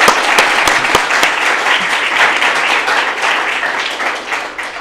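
Steady crowd clapping at Buckley Country Day School's 8th grade speeches, welcoming a student's little sister, with dense, evenly sustained applause from many hands, fairly close and loud, slowly easing toward the end.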